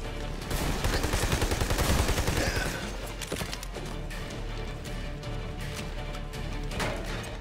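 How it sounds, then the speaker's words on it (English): Bursts of gunfire fill a firefight in the co-op shooter game Army of Two: The Devil's Cartel, with dense rapid shots loudest early on, then scattered sharp reports continuing over a steady background rumble. "I'm getting shot at from the back."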